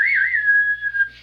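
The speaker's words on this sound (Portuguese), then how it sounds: "Tem aquela musiquinha clássica, né, que você escuta aquele assobio" A single whistled melody line, a classic film theme, clear and close, bending in pitch before holding a long steady note, alone with no talk.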